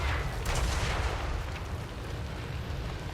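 Mortar fire in a Total War Warhammer 3 battle during a Tomb Kings campaign: a dense, continuous low rumble of booming impacts and distant blasts, heavy and sustained with no clear gaps.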